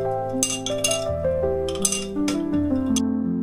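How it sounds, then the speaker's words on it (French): Ice cubes clink against the sides of a glass of iced matcha in a quick run of bright, close taps with ringing tones, alone with no talk. "Je suis la seule à aimer le bruit des glaçons."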